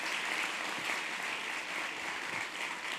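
An audience at a Gujarati folk comedy and devotional song stage program breaks into loud, dense applause, a steady roar of many hands clapping throughout, fairly distant.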